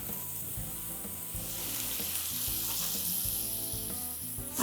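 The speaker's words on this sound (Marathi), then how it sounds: "हे वाटण तेलात अगदी छान परतून घ्यायचे." A garlic spice paste sautés in oil for a spicy Maharashtrian curry, making a soft steady sizzle and frizzle that swells slightly midway, with low rhythmic hum bands under it and a sudden bump at the very end.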